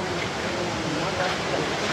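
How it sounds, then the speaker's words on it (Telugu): Heavy flow at Gandahati waterfalls makes a steady, broadband rushing roar that stays constant and moderately loud throughout. "గాయ్స్ వాటర్ ఫాల్ సౌండ్ వినిపిస్తుందా?"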